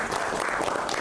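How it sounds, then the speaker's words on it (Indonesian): A short burst of dense audience clapping at a literary appreciation evening, steady and fairly close, lasting about a second with no clear talk over it. "tepuk tangan dulu untuk Kak"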